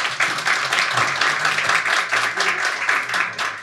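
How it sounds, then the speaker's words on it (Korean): An audience at a Korean campaign event applauds the co-representative, producing a loud, lively burst of close clapping from many hands that stays dense throughout, with a faint voice murmuring underneath. "우리 연성호 공동대표님께 박수 한번 부탁드리겠습니다."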